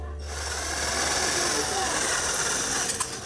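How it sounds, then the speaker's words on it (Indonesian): A power drill whirs steadily for a few seconds, drilling bolt holes for a cooling fan mount on an off-grid inverter, a close mechanical buzz ending with a few short clicks and knocks. "Dan satu lagi kita bor."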